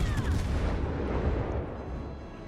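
The cruiser Anchorage fires its guns in World of Warships Legends, a heavy booming salvo that rolls into a dense, rumbling wash of gunfire and slowly fades.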